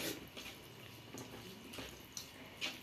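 Buttermilk curry (moru curry) poured over rice at home, giving a soft, close splashing trickle with a few small drips and faint clinks, no voices.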